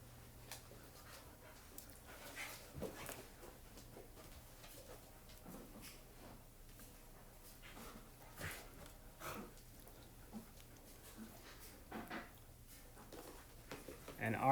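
Dogs romp and vocalize with scattered whines, pants and short yips over steady background noise, with a louder burst near the end.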